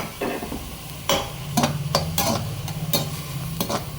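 Beans and ginger sizzle in a hot pan while a spoon stirs them, giving several sharp scraping strokes over a steady close frying hiss with no talking.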